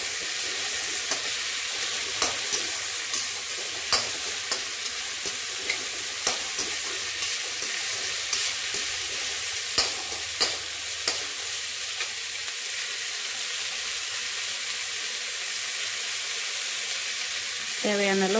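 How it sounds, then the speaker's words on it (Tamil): Chopped tomato fries in a pan with a steady, bright hiss while a spoon taps and scrapes in a regular rhythm, and a burst of louder sizzle comes at the end. "ஒரு தக்காளி ஒன்று பொடியாக கட் பண்ணி வச்சுருக்கேன் போட்டுக்கலாம்."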